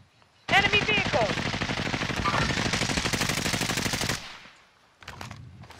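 Sustained automatic gunfire in Call of Duty: Modern Warfare, a loud dense burst of rapid shots lasting several seconds before cutting off, followed by a few fainter scattered shots.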